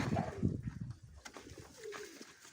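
Pigeons coo nearby in low, throaty bursts, with a second softer call near the end and a faint click in between.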